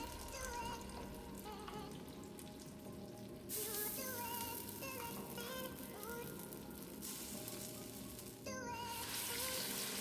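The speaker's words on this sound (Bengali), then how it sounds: "কড়াইশুঁটির পেস্ট সাদা তেলে দিয়ে দিলাম" Green pea paste frying in white oil in a wok, a faint continuous sizzle and crackle, quiet and close, broken by a few brief stirring clatters.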